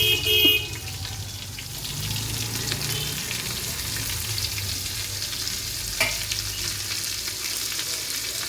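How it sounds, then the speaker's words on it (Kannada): Chillies and onions fry and roast in a pan for green chicken dum biryani, a steady close sizzle with occasional stirring scrapes running throughout, and a brief faint tick partway through. "ಎಲ್ಲ ಹಾಕಿ ಫ್ರೈ ಮಾಡಬೇಕು ಚೆನ್ನಾಗಿ ಮತ್ತು ಮೆಣಸಿನ್ಕಾಯಿ ಈರುಳ್ಳಿ ಚೆನ್ನಾಗಿ ರೋಸ್ಟ್ ಆಗಬೇಕು"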